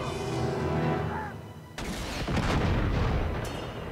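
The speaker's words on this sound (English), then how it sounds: "I don't think they saw me shoot that guy." Gunfire in Uncharted 2, a sharp broadband shot at about 1.8 seconds, then a loud, sustained burst of booming, crackling shots over dense game ambience.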